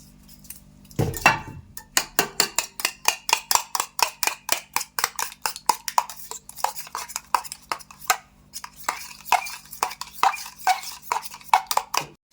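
A spoon scrapes and clinks against a metal pot in a steady, rhythmic stirring of chili powder into egg cake curry, close and fairly loud, with no voices.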